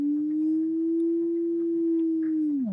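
A synth tone from Ableton's Operator holds a steady pure pitch with gentle LFO wobble, then bends sharply down and back up at the end, clear and alone.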